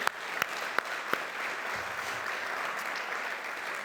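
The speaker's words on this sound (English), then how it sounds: "Round of applause for all our former administrators and faculty." An alumni awards audience applauds former school administrators and faculty with a dense, steady wash of clapping and a few sharper nearby claps standing out early on.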